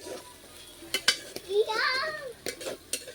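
Potatoes fry in a blackened iron wok over an earthen stove and are stirred, giving scattered scrapes and knocks against the metal over a faint sizzle, with a voice briefly heard nearby.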